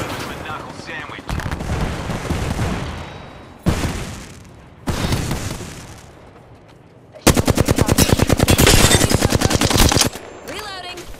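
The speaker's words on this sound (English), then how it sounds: "you're being shot at" Gunfire in the video game Double Conduit: bursts of rapid automatic fire and heavier single shots, loud and close, broken by brief pauses, with a fast rattling volley near the end.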